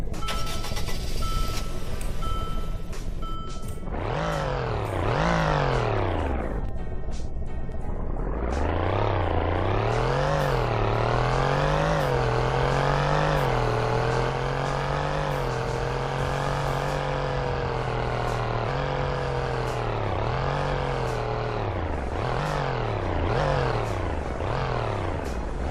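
Engine of a 2019 Mercedes G-Wagon in a video game, starting and revving up and down repeatedly, with pitch rising and falling in sweeps and a sustained higher hold in the middle, loud and alone.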